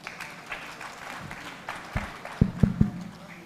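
Audience applause welcoming panelists at a policy conclave, fairly soft and diffuse clapping with a few louder thumps and footsteps near the end.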